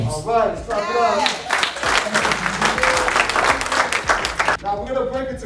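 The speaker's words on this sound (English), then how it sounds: "let's clap it up" Group applause at a social justice workshop session, a steady loud wash of clapping between stretches of a speaker's voice at the start and end.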